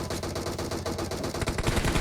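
Automatic and rapid gunfire in PUBG, dense continuous bursts of shots filling the whole moment, loud and close with a slight swell near the end, no voices over it.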